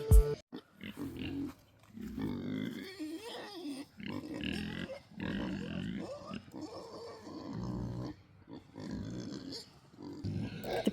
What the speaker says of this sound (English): The pigs are awfully loud this morning, and they get even louder when I come near them because they know it is time for food.